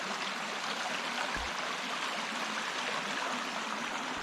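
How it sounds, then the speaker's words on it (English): Small stream with a little waterfall on a forest trail, a steady close rushing and splashing of water filling the whole span without interruption. "Beautiful stream."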